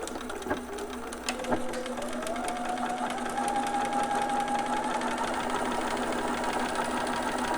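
A home sewing machine running steadily while stitching a back stitch on a newborn romper, a continuous motorized whir with rapid needle clatter and a faint rising whine, close and alone.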